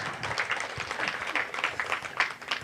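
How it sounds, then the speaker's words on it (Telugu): An audience claps for a guest being welcomed onto the stage at a motivational talk session, a steady wash of applause heard from a moderate distance and fairly faint throughout. "కరతాళ ధ్వనులతో గట్టిగా చప్పట్లతో స్టేజ్ మీదకి ఇన్వైట్ చేసుకుందాం"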